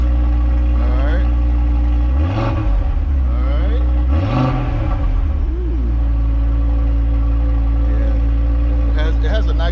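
A 2024 Audi RS3's five-cylinder engine idles with a deep, steady rumble, then is revved sharply twice, each rev climbing and falling back, while a person talks nearby.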